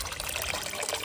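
Water runs steadily through the filtration pipe of a koi pond, a brief, even trickling flow at moderate volume.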